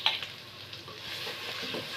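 Mixed masala spice powders, including garam masala, tipped into a hot pan for mutton kuzhambu and stirred, giving a brief scrape at the start followed by a steady, moderate sizzle of frying.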